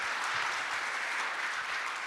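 Audience applause at a Rust conference talk, a steady dense wash of many hands clapping together, moderately loud and continuous throughout with no voices over it.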